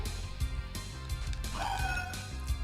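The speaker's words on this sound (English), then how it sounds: "You killed my dog!" A dog yelps in the Castlevania: Rondo of Blood video game, giving a short rising cry midway through over steady game music and busy sound effects.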